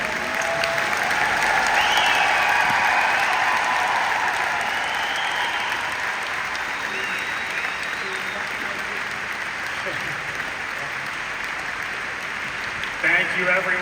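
Long, steady round of applause from a crowd at a gathering, dense and even clapping that holds its level from start to finish.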